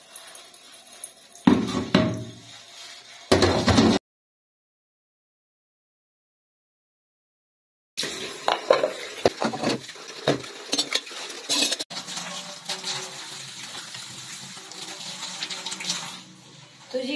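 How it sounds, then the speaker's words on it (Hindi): Kitchen dishwashing with running tap water, clinking utensils and pots being rinsed and scrubbed, a break of silence midway, then steady water flow. "तो अब बारी है बर्तन धोने की। तो बर्तन धो लेती हूँ"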